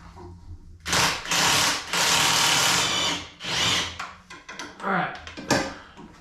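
An impact wrench on a Harley-Davidson Dyna motor mount nut: loud close bursts of rattling hammering, several sustained runs of about a second each, followed by shorter choppy bursts and metallic handling.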